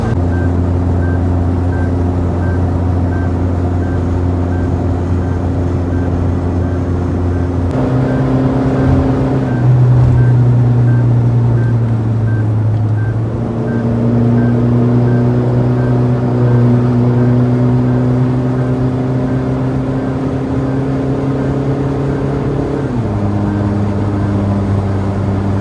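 Modified Toyota Fortuner engine held at high RPM, a loud, steady droning roar that shifts pitch as revs drop and climb again, continuous throughout with no talk over it.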